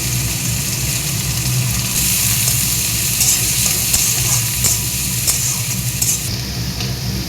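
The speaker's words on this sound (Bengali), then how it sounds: "জিরে ফোড়ন, পেঁয়াজ দিলাম, রসুনের পেস্ট দিলাম" Cumin seeds, onion and garlic paste fry in hot oil in a pan, giving a loud, steady sizzle with stirring scrapes throughout and no talk.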